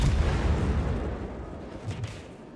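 Heavy naval gunfire from an enemy ship's shells hitting a vessel in World of Warships, a dense rumbling boom that fills the clip, with a second thud near the end, loud and close with no talk.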